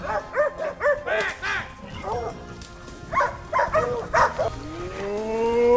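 Hunting dogs barking in bursts during a hog hunt outdoors, repeated sharp yelps and bow-wows at mid distance, with people talking over and between the barks.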